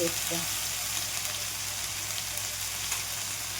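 A paste of tomato, chili and cashew fries in a pan, giving a steady, close sizzling hiss with a faint low hum underneath.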